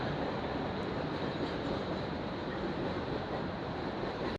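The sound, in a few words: Shalimar Express train departing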